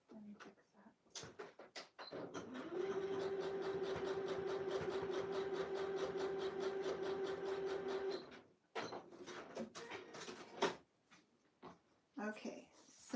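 A sewing machine stitches a pocket on a fleece robe, running as a steady, even motor whir for about six seconds, with scattered handling clicks and knocks before and after.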